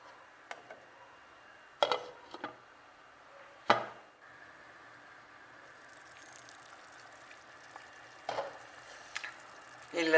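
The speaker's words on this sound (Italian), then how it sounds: "Faccio riprendere il bollore." A pot of onion soup with broth simmers quietly with a faint bubbling, broken by a few sharp clinks and taps from a utensil.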